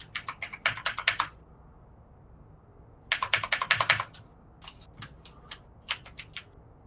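Computer keyboard clicking in rapid bursts of typing separated by pauses, close and crisp with no voices.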